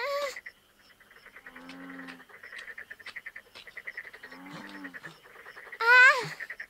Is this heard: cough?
no